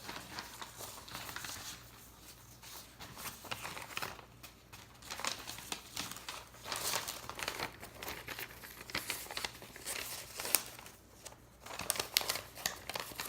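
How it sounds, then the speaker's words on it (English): A paper check slides into a paper envelope with soft crinkling and rustling, faint and close, in scattered bursts of handling. "So I'm gonna take my check that I had earlier and place it inside of my envelope."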